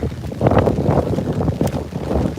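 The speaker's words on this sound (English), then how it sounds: "the wind is really picking up here" Strong typhoon wind batters the microphone outdoors near the Tokyo stadium at the closing ceremonies, a continuous heavy roaring rumble with gusting surges and no pause.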